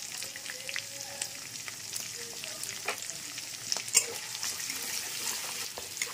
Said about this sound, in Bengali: রসুন আর কাঁচা লঙ্কা একটু ভাজা ভাজা হয়ে গেছে।